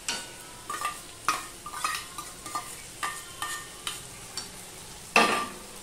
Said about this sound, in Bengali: এবার মশলার সাথে এই ডাল ধুয়ে রেখেছি সেটাও আমি কষিয়ে নেব